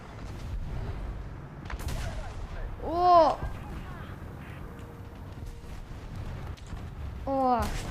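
Gunfire from naval boats in War Thunder: sharp blasts and a rising whistling shell sound midway and again at the end, over steady background rumble.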